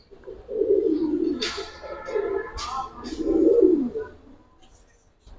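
Pigeons coo nearby in two deep, rolling bursts, with a few sharp flutters or clicks in between and a quieter tail at the end.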